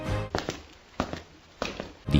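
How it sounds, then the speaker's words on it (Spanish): A few heavy Star Wars film footstep sound effects thud in a slow, uneven pace, close and distinct, with quiet pauses between each step. "pasos"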